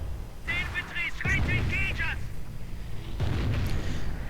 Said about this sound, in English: firing down one very thick barrage on the American mortar